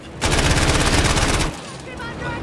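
A sustained, rapid burst of machine-gun fire from the belly gun of an aircraft in the game Battlefield 1 lasts just over a second, loud and close. Then it cuts off, leaving quieter engine and ambient game noise.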